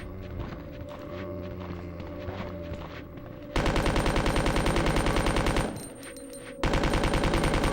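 Submachine gun fire in the video game Resident Evil 2: loud rapid-fire bursts with an even mechanical rhythm, cutting in after a stretch of quieter game ambience and pausing briefly before resuming.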